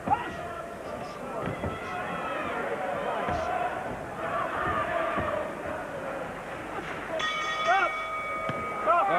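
A ring bell ends the round at a WBU title boxing bout in an arena. It rings out clearly near the end, under excited commentary and crowd noise.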